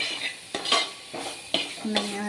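Chicken peralan with onion is stirred in a pan until the oil separates: a spoon scrapes and clinks against the metal in four or five rhythmic strokes over a soft sizzle, with no talking.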